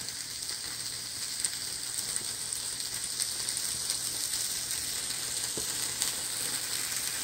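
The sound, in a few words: bacon frying and browning in a pan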